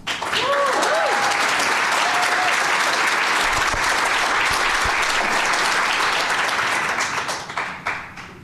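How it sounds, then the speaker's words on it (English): An audience applauds steadily at a mayor's signing of housing levy legislation, dense sustained clapping that fills the room for several seconds before thinning out near the end, with a brief voice over the start. "A round of applause for all of you."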